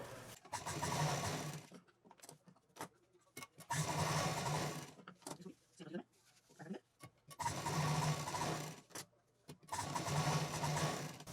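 A sewing machine stitches down the sides of a folded belt made from leftover quilted fabric for a bag accessory. It runs in four steady bursts with short pauses, and a voice talks between the runs.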